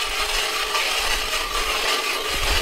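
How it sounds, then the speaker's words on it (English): A continuous, gritty grinding of an ice auger boring through ice at least 2 feet thick, steady and close, with no voices. "So let's get after drilling this hole."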